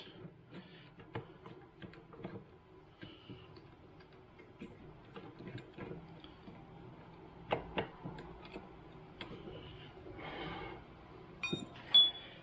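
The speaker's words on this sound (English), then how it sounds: "we loosely fit the two bolts that hold that" Bolts loosely fitted on a BF20 milling machine's CNC conversion kit: faint, scattered metallic ticks, taps and clinks of hardware and tools at close range, with no talking.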